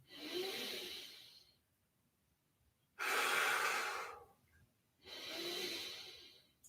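Deep breaths held in a half bind during a yoga class, three long airy inhales and exhales with pauses between, close and fairly loud, with no talking.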